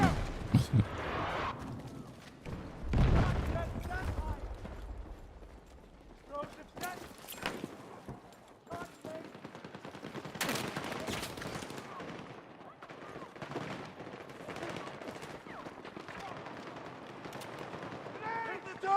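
Booming grenade blast in a shooter game, a loud burst early followed by scattered gunfire and further impacts, with players talking throughout the long chaotic stretch.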